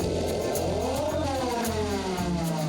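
A Ferrari flat-12 engine recreated in the BeamNG driving game starts and runs, a loud continuous synthetic engine drone with rising harmonic sweeps as it revs, alone with no talk.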